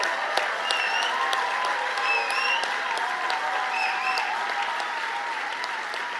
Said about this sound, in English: another resounding standing ovation and a thunderous applause